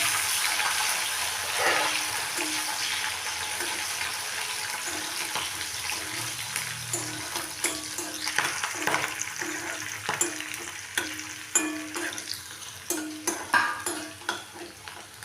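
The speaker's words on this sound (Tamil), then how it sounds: "திராட்சை பாதாம் பிஸ்தா நல்லா கொஞ்சம் வறுத்து எடுத்துக்கோங்க" Raisins, almonds and pistachios roasting in a pan for Tamil rava kesari, a soft steady sizzle with repeated light scraping and tapping of a spoon, growing busier toward the end.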